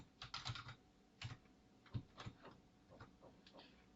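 Computer keyboard typing in short bursts of clicking keystrokes, close and fairly quiet, with irregular pauses between groups of keys.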